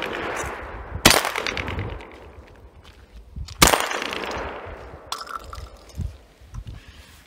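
Shotgun blasts during defensive shotgun training on a range, with two loud, sharp reports several seconds apart and quieter knocks and handling sounds after each, with no talk.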